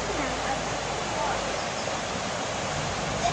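The Bzyb, a mountain river in Abkhazia near Pitsunda, rushes steadily beneath a bridge as a continuous broadband roar of flowing water, fairly close and unbroken throughout.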